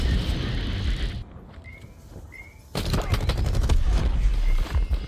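Automatic weapon fire in Call of Duty: Black Ops 4, loud sustained bursts of rapid shots over game noise, broken by a brief quieter gap before the firing resumes.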